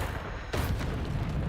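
A Bombarda spell goes off in Hogwarts Legacy: a sudden loud blast strikes after a brief lull, then a dense, rumbling roar of debris and ambient noise sustains to the end.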